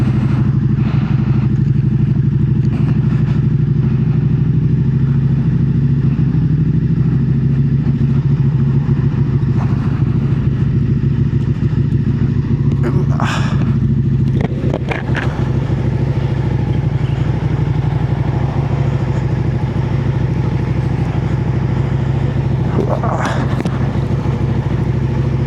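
Motorcycle engine with its exhaust sound suppressor removed runs steadily for the whole stretch, a loud, close, throaty drone with a few brief clatters and rev blips partway through.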